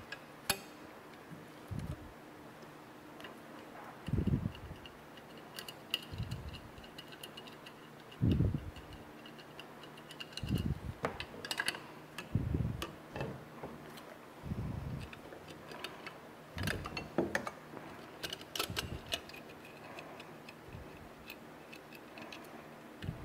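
Two 10 mm nuts being loosened from a VNT turbocharger actuator bracket, heard as a series of sharp ratchet-like ticks and clicks in short irregular bursts, close up, with no talking.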